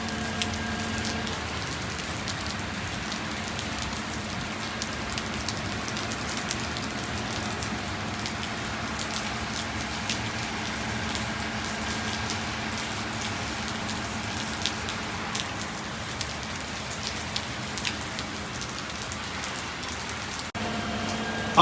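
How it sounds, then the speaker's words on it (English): Heavy rain in Waterville, Maine, falling in a steady dense patter on surfaces, constant and close throughout with no voices. "boy, it's really raining today"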